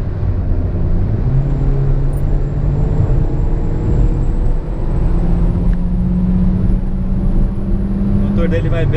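Citroen C3 with a 1.6 engine and four-speed automatic gearbox heard from inside while driving, a steady low engine and road rumble with tonal hums that shift as it pulls, under someone talking.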